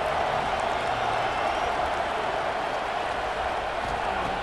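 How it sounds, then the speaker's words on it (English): Broad, steady crowd roar from a stadium audience in EA Sports College Football 26, sustained without break through the final minute of a tied fourth quarter, loud and continuous with no distinct voices. "Crowd really getting into it here in the final minute."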